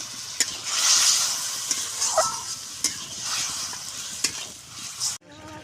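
Koi fish frying in hot oil in a pan just after a splash of water goes in, a steady loud sizzle with occasional stir clicks and crackles, ending abruptly in quieter spatter.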